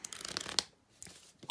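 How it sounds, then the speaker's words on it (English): A stack of handmade postcards is shuffled by hand, giving two brisk riffling bursts separated by a short pause, close and fairly quiet. "I thought it would be fun to just, like, shuffle them up."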